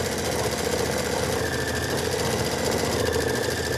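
A home sewing machine stitches lace placement lines on a quilt block, giving a steady, continuous mechanical whir and rapid needle clatter that runs evenly and fairly loud throughout.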